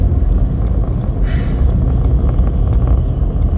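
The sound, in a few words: Audi car driving by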